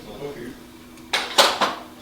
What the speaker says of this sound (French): La vaisselle.